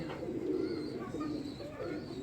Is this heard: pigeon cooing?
yes